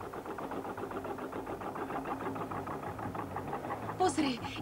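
A small motorboat engine putters in a steady, fairly quiet chug with a soft, regular knock, and a brief brighter burst near the end.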